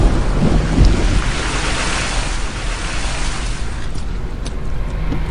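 A movie thunderstorm roars with heavy rain and a deep thunder rumble near the start, forming a loud, unbroken wash of noise in a Hollywood adventure film scene, without any speech.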